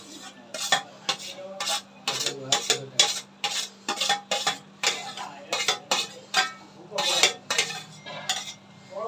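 Tomatoes stirred into masala frying in a pan for Rajasthani dal: a steady run of about twenty sharp clinks and scrapes of a spoon against the pan, close and fairly loud, over a soft sizzle and a low hum, with no talking.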